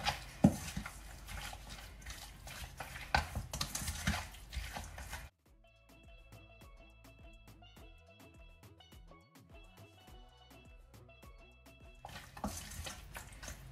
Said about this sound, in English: Now you just want to go in with a wooden spoon and just mix that up properly.